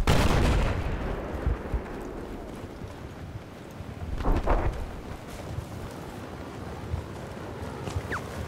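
Gunfire in the Battlefield 4 video game, on the Paracel Storm map: a few sharp reports, with a brief burst around the middle, over a steady windy, rumbling background.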